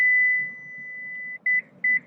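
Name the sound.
Lexus LX 600 warning alarm beeping during seat operation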